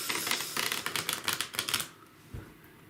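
A deck of tarot cards is riffle-shuffled in a rapid, crisp flurry of fluttering clicks for about two seconds, then a soft tap and quiet, close and alone.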